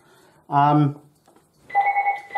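A telephone rings with a steady electronic two-tone trill in a workshop, right after a short burst of nearby speech.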